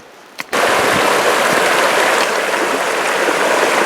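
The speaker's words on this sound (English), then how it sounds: "East Fork River." The East Fork River in the San Gabriel Mountains of Southern California rushes in a loud, steady broadband wash that starts abruptly after a brief quiet moment and continues unbroken, close by.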